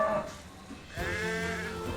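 A ram living among cattle lets out a drawn-out, wavering bleat that swells in the second half, heard close over a busy outdoor background.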